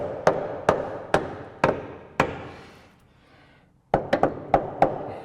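A hammer taps the gearbox of a 1986 Range Rover into position, with sharp, close, solid knocks. Five come spaced about a second apart, then after a pause a quicker cluster of five.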